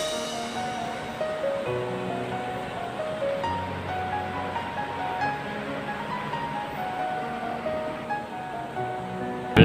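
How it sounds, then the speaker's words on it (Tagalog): A strong flooding mountain river rushes in a continuous broadband roar, steady and close, with faint tonal hum layered over the water noise and a brief bump right at the end. "ang lakas ng agos ng tubig sa bundok sa mataas na bahagi"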